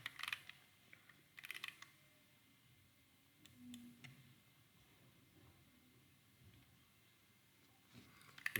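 Computer keyboard typing while entering level values in Revit 2026: faint, sparse clusters of key taps with a louder flurry near the start and again at the end, over quiet room hiss.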